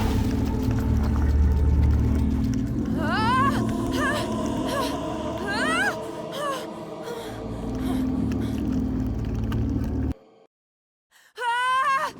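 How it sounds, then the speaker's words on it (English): Aeroplane engine in the Amnesia Rebirth video game: a sustained low drone with rising tonal sweeps laid over it, cutting out abruptly near the end before returning briefly. "Aeroplane engine."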